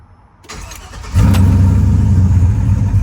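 A GM LS V8 truck engine with a surging idle problem cranks briefly, catches and fires up, then settles into a deep, loud, rumbling idle.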